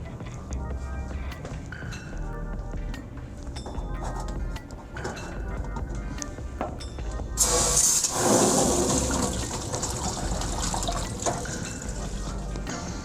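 Tap water turned on and running through a wort chiller hose on a 20-gallon BIAB brewing system, a steady hiss and splash with a louder surge partway through and faint clinks in the background.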